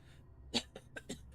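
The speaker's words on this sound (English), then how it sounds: "sorry for coughing in the microphone" A few short, rough coughs in quick succession, close to the microphone, in an otherwise quiet room.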